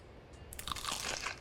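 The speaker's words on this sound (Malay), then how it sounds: "Nak makan mi dulu lah." Crunchy chewing and biting from a noodle-eating action in a Roblox game, a run of quick crisp crunches that starts softly and grows denser and louder.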